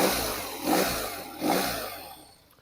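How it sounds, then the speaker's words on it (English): A BMW R nineT motorcycle engine blips twice with light throttle, each short rev swelling and fading over a low idle, close and fairly loud. "All I'm going to do is just lightly touch the throttle"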